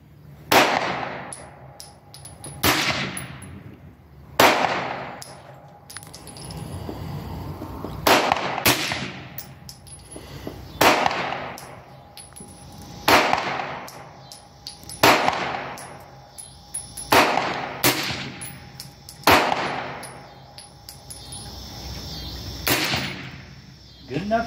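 AR rifle shots at an outdoor shooting range, about ten sharp, loud reports spaced a second or two apart with ringing decay, and people talking between them.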